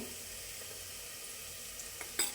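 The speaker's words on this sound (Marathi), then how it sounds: "आता गॅसवरती मी कुकर ठेवलं आहे तर त्यामध्ये एक बारीक कट केलेला कांदा घ्यायचा आहे तो आता परतून घेणार होता" Finely chopped onion fries in a pressure cooker on a gas stove, giving a steady close sizzle with a couple of faint clinks near the end and no talking.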